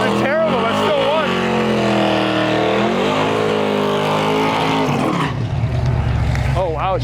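Drag racing cars, including a Camaro, roar at Interlake Dragway with loud, sustained engine revving that shifts pitch as they run. A voice talks over the noise near the end.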